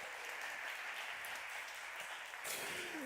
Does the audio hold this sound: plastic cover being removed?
no